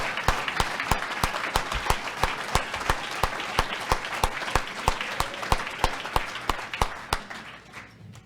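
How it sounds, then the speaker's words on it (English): Small office gathering applauding at a thank-you event, a thin round of distinct individual claps in a steady, fairly even rhythm, close and clear without talk. "just a round of applause for Leah and Mark and Julie and Justin and Dustin and everyone in the office"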